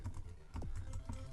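Someone types code on a computer keyboard, a few close, distinct key clicks spaced unevenly over a quiet background.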